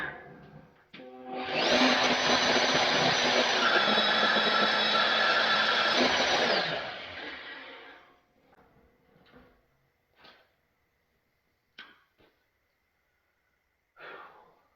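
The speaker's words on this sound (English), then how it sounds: "deburr all the holes with the countersink and then sand it" A loud, steady whirring grind of a countersink bit deburring drilled holes in a metal fixture table runs for several seconds, then spins down, followed by a few faint clicks and taps.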